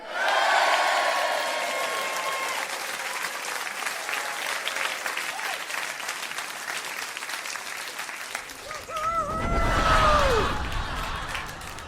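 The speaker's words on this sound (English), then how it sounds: "cheer as loud as you can" Children in an audience at a Peter Pan stage show cheer and clap loudly and steadily for most of the stretch, with shrill young voices rising above the applause and a fresh swell of cheering near the end.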